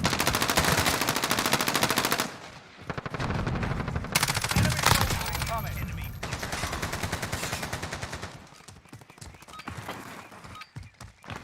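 Warzone video game gunfire: dense, loud automatic bursts rattle almost continuously, then thin into scattered rapid shots and fade toward the end.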